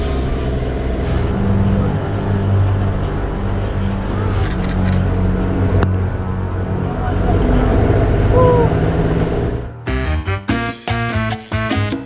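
A truck stuck in mud on a road, its engine droning and revving steadily for about ten seconds with a passing whine, then cut off by choppy, broken bursts of sound.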